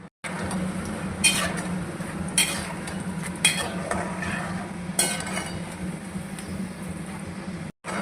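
Peanuts fry in hot oil for spiced puffed rice, giving a steady close sizzle broken by repeated scraping stirs of a spoon against the pan.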